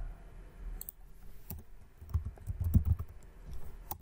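Quiet, irregular clicks of a computer keyboard as code is entered, with short bursts of keystrokes and brief pauses between them, close up and with no voices.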